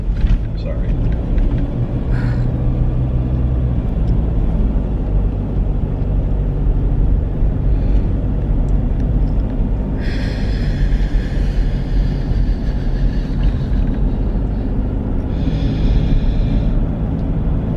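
Steady loud road rumble inside a car travelling on a freeway, continuous throughout with a brief higher hiss of passing traffic; voices talk faintly over the drone.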